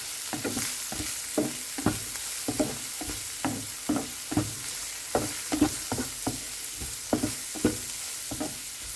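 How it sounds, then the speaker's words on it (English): Fried rice ingredients stir-fried with turmeric in a hot pan: a steady, even sizzle beneath regular, rhythmic scrapes and knocks of a spatula, close and clear, with no talking. "1 teaspoon of turmeric powder, and continue on stirring."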